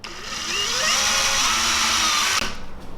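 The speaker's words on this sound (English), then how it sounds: "Now I can drill through the nose" A high-pitched power drill whines steadily and loudly for a couple of seconds, drilling through the nose of a small crankbait lure body, its pitch wavering slightly, then cuts off abruptly with a brief trailing rattle.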